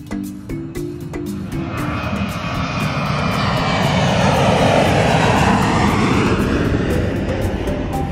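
An airplane's engine roars close by, starting with a few sharp tones and then swelling into a loud, steady, continuous drone.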